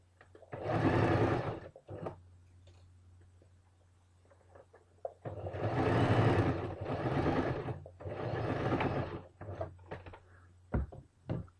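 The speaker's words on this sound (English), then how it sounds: "then use the sewing machine" A sewing machine whirs in three bursts of stitching a kameez sleeve, the first short and the last two longer, with a low motor hum and faint clicks between runs.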